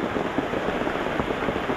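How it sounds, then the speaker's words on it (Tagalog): Heavy rain pours steadily with a dense, continuous hiss of drops striking a surface close by. "At sobra pong lakas ng ulan"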